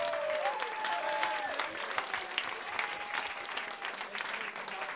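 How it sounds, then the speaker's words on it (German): An audience applauds at a spring festival of SV Südwest Ludwigshafen, with sustained crowd clapping of even intensity throughout and a faint sliding tone in the background early on. "Also noch einmal einen Applaus für"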